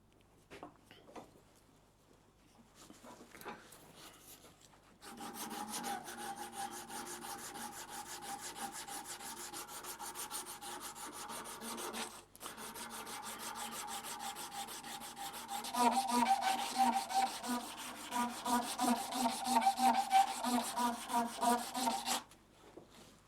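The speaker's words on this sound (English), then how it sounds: "just sand off this area around here" Sandpaper rubs back and forth on a carved woodcock horn head, rounding the edges with a close, continuous rasping scrape that strengthens partway through and stops abruptly near the end after a quieter start.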